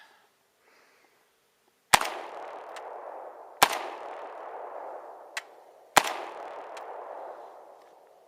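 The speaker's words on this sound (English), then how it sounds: "now I want to shoot with the stock closed there" Three loud, sharp rifle reports from an FN SCAR 16 fired with its stock closed, spaced about two seconds apart, each with a long echoing outdoor decay, plus a fainter click between shots.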